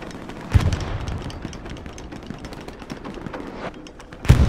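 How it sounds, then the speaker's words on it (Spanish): Artillery shells land in the World War II shooter Hell Let Loose: two heavy booms about four seconds apart, with a low rumbling battlefield din in between. "bombardeo de artillería"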